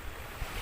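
Surf rolls onto the sand at Nam Rong Beach in Thailand, a steady broadband wash of waves with wind rushing across the microphone, alone and without voices over the short stretch.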